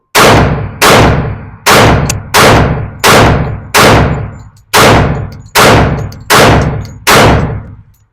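A Glock 41 pistol fires nine loud, sharp shots at a steady pace of roughly one shot every second, each with a short ringing decay and no talk.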